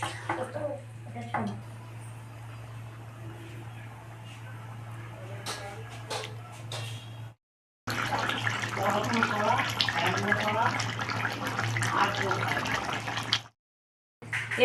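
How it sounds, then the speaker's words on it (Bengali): Water runs into a pot of cooking green jackfruit curry in a steady pour, broken by a short gap, with a constant low hum underneath and a voice speaking during the first part. "এবার আমি পরিমাণ মতো জল দেব।"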